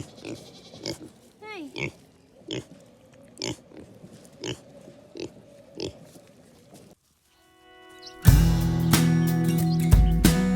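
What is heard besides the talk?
pigs grunting on a farm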